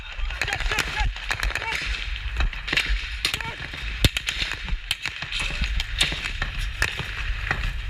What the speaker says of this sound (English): What we're hearing is only AK-47 fire.